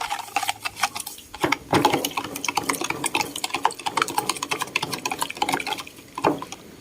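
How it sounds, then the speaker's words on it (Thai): Salt is stirred into water in a container until it dissolves, making a continuous, rhythmic scraping swirl with small liquid splashes, close and fairly loud. "คนเกลือให้ละลายเลยค่ะ"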